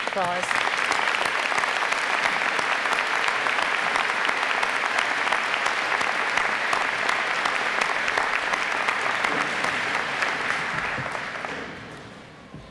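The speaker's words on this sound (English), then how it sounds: "please join me in a warm round of applause" Warm, sustained applause from a large audience at a University of Winnipeg spring convocation ceremony, a dense steady wash of many hands lasting over ten seconds before tapering off near the end.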